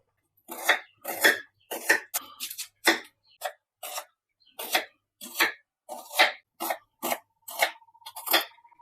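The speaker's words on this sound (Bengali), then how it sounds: "পেঁয়াজ দুটো এবারে কেটে নেব" Two onions being sliced thinly with a knife, heard as a run of crisp, separate cutting strokes in short bursts with brief pauses, close and clear against a quiet background.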